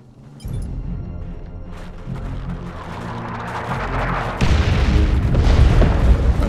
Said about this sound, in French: Lancez un barrage. Tir d'artillerie.